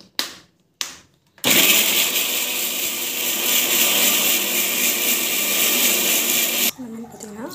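An electric blender or mixer grinds coconut and onions in a home kitchen, starting after a few short bursts and then running as a loud steady whirring roar for several seconds before stopping, with brief talk around it.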